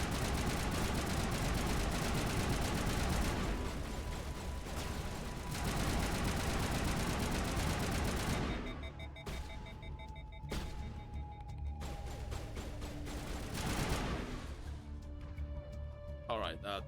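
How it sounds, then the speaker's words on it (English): Turret gunfire in the sci-fi shooter Mass Effect, a dense, continuous roar of rapid fire for the first half, then thinner scattered shots and tones, with speech over it. "these turrets just rip us to shreds"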